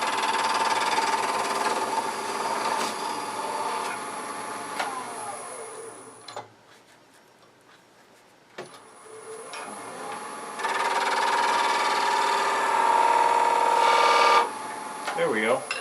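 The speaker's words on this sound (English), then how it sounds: "we're just going to simply slice those things with a skew. Just come in from the side." A skew chisel slices wood pads on a lathe, giving a loud steady whirring cut that stops for a short pause, then resumes with a sharp start and continues strongly to the end.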